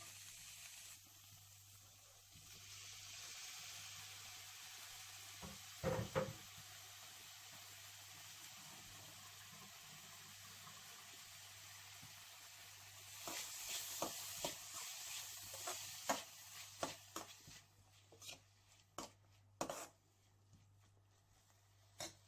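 Onions sautéing in a pan for a tapioca fry, a steady quiet sizzle with scattered scraping stirs that grow busier and louder toward the end.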